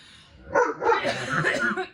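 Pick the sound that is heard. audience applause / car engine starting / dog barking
dog barking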